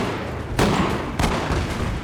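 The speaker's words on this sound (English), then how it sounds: "we've heard some gunshots, I believe" Musket volleys in a Napoleonic Waterloo video game battle: two heavy, booming bursts of massed fire roll out over a dense, constant background of distant battle noise.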